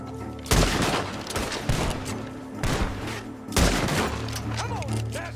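Video game gunfire from a barn in Red Dead Redemption 2, with several sharp loud shots in rapid bursts amid background game noise and voices.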